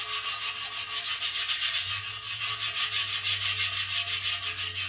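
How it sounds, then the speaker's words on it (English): A rusty, pitted exhaust header from a 1974 Pontiac 455 Trans Am is hand-sanded in quick, even back-and-forth strokes, a steady rhythmic rasping that stays loud and close throughout. "It'll take me a couple hours to get the header sanded out."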